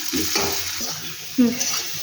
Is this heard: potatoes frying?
yes